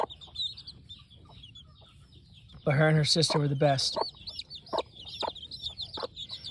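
Hoy Muff gamefowl in a pen give repeated clucks and thin chirps, close and fairly quiet, with someone talking briefly partway through.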